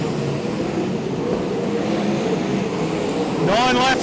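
Sprint cars race around Archerfield Speedway, a loud continuous engine roar with a rising whine as cars pass, under a commentator's voice.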